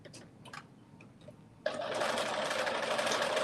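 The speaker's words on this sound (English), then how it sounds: "So we are stitching all the way around" A domestic sewing machine stitching all the way around a pocket on a New Look 6780 garment starts after faint clicks and handling, then runs steadily with a continuous close whirring hum.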